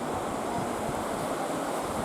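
A river flowing beside the road between Jim Corbett and Nainital via Kaladhungi, heard as a steady broadband rush of water blended with wind, continuous and fairly close, with no voices.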